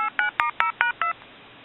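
A telephone handset redials a number in DTMF tones: six short, evenly spaced beeps in a quick steady rhythm, clear and close with no voices.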